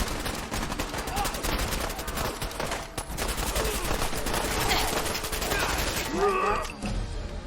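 Gunfire in a game, a steady rapid rattle of shots and bursts under continuous loud action, with a brief whooshing sweep near the end.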